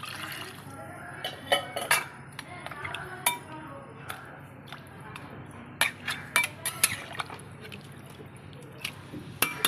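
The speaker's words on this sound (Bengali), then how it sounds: "এবার আমি প্রেসার কুকারে ঢেলে দিচ্ছি" Mutton curry cooked with tamarind poured and scraped from a pan into a pressure cooker in a home kitchen, with wet sloshing and sharp metallic clinks of a spoon against the vessels, scattered through the clip.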